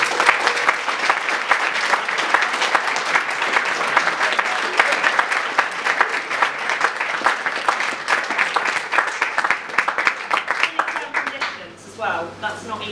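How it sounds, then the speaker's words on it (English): Sustained audience applause fills a school good-news assembly, dense, steady clapping from a large crowd that carries on for about twelve seconds before thinning out near the end. "Esther deserves a massive round of applause"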